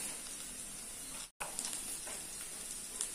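Oil sizzles steadily in a pan while frying ingredients for a ridge gourd curry with sesame and milk, a continuous close hiss broken by one brief silent gap near the middle.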